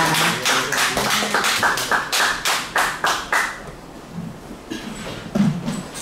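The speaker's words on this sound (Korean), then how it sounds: "영광의 박수 올려드리겠습니다." A church congregation at a Sunday combined service gives a rhythmic round of applause, steady regular claps that thin out and fade toward the end, with a few scattered sounds after.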